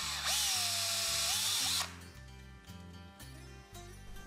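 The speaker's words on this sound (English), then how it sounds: "Drill a 1/8 inch pilot hole into the left and right seat frame." A power drill whirs loudly for under two seconds, spinning up and boring a 1/8 inch pilot hole into a PVC bike seat frame, then stops, followed by quieter mechanical clatter and shuffling.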